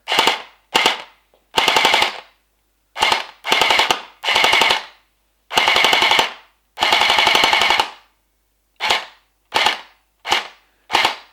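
A Bing Feng M14 EBR gel blaster fires into a chronograph, giving about a dozen close, loud mechanical shots: single cracks and short rapid-fire bursts, each separated by silence.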